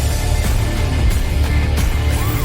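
A sidecar motorcycle pulls away at low speed on a training lot, its engine a steady, loud low rumble that stays close throughout with no speech over it.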